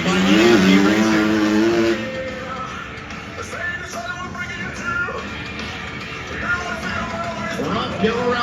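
A Honda CRF 250 dirt bike races around barrels at a quad, dirt bike and ATV show in Turlock, its engine revving loudly and then easing off under an announcer's voice and distant crowd noise.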